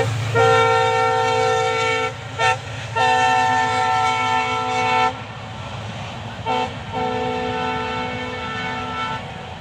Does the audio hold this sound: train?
yes